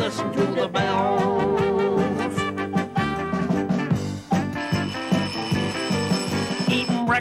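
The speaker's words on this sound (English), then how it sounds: "Oh, the bells, listen to the bells." Dense music with bright ringing bell tones layered over a steady beat and instruments, continuous and loud throughout.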